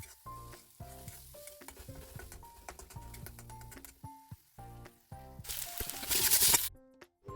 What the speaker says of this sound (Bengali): মশলাটা ভাজা হয়ে গেছিলো